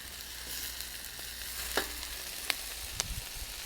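Chicken and spring onion being stir-fried in a wok, a loud continuous sizzle close up, broken by a few sharp clinks and scrapes of the utensil against the metal, with no talk.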